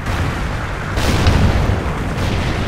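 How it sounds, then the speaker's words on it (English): A rocket strike explodes in an online shooter game, a loud close booming blast over an already dense rumbling noise, with a second burst following shortly after. "Friendly Trinity rocket inbound."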